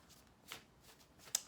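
Tarot cards being shuffled by hand, a soft quiet riffle with a brief brush midway and a sharper snap near the end, with no talk.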